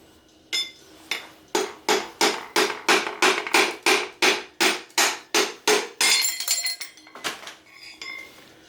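A hammer strikes metal in a steady series of about a dozen sharp, ringing blows, loud and close, followed by a few scattered clinks, while driving pistons out of a 4.7 stroker engine.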